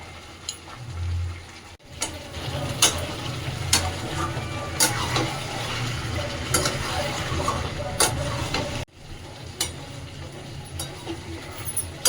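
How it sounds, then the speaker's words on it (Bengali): Fried onions and biryani masala being stirred into chicken chaap frying in a pan, a continuous sizzle broken by sharp scraping clicks of the spoon, with one abrupt cut partway through. "আচ্ছা, এবার আমি দিচ্ছি পেঁয়াজ বেরেস্তা। আমি বিরিয়ানি মশলাটা আর একটু দিয়ে দিচ্ছি।"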